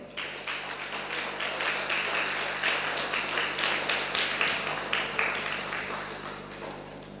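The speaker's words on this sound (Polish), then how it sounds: "Jeszcze raz wielkie brawa." Audience applause at a Toastmasters conference talk in Gdańsk, a steady wash of many hands clapping that holds for several seconds at moderate level with no voices over it.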